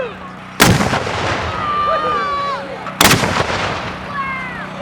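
A homemade cannon fires twice, each shot a loud, close boom a few seconds apart that rolls off into a long echoing tail, with birdsong and faint background hum in between.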